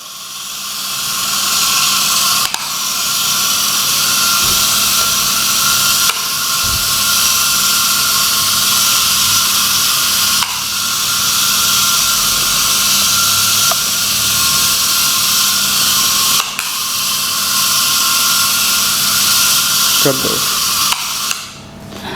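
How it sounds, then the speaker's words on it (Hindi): A small homemade tractor engine runs steadily and loudly throughout, with a hissing, buzzing tone and a few brief dips in its sound. "ये छोटा सा ट्रैक्टर ऑपरेट हो रहा है।"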